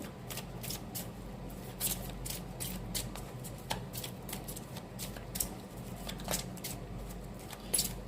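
Tarot cards being shuffled and drawn, a steady run of crisp papery riffles and flicks with sharp snaps close by, carrying on for several seconds with no talk.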